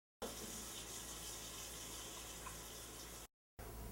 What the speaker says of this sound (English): Okay, so I've washed my hands.